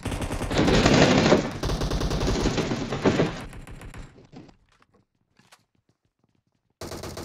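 Rapid automatic gunfire from the video game PUBG, loud dense bursts for about four seconds that then fade into near silence with a few faint clicks before noise returns.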